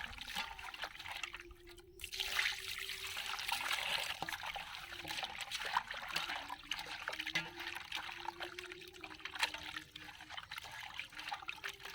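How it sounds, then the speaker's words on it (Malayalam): Water trickling and splashing steadily while raw fresh chicken is rinsed clean in a pot, a soft continuous flow with no voices. "നമുക്കിനി അത് കഴുകാനുള്ള പണി നോക്കാം"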